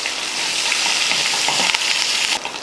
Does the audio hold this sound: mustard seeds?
yes